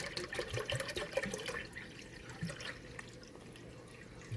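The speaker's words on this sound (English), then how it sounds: "I'm going to put a second bottle of the Worcestershire sauce" Worcestershire sauce glugs from a bottle onto meat for beef jerky, a soft, irregular liquid splashing and dripping that is quiet and close.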